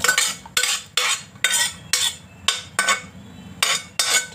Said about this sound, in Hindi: मैं इसे दूसरी पतीले में ट्रांसफ़र कर रही हूँ।